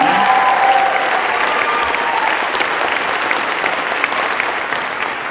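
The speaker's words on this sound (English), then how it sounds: "Another round of applause for Off Keys" A school audience at a K-8 arts magnet show claps for the Off Keys performers, a full, even burst of applause with a brief vocal tone at the start, tapering a little toward the end.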